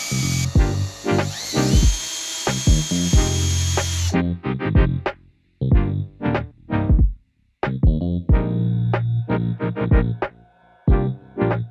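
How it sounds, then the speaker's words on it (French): Power drill boring through a van roof for a cable passage, a series of short loud whining bursts with pauses between them, one longer run at the start followed by repeated quick triggers. "on devait percer le toit pour passer les câbles dans le passe-toit"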